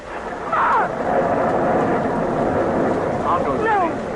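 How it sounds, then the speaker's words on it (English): Thunder from a storm in an old-time radio drama, playing in a nearby room: a steady rumbling wash with rain-like hiss and brief tonal sweeps, heard under continuous talk. "I hate thunder."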